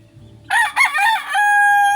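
Rooster crowing loudly and close, one long harmonic call with a held final note, gray hatch gamefowl in a backyard coop, faint clucking and low background before it.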